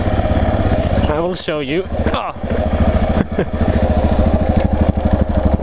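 A Yamaha XT 660R motorcycle runs off-road on a rough single-track trail. The single-cylinder engine thumps loud and close, chugging and revving unevenly as the bike picks through rough ground, with someone talking briefly over it.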